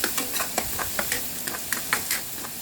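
Beans and vegetables frying in a pan, a steady bright sizzle with repeated light clinks and scrapes of a stirring utensil, close and alone.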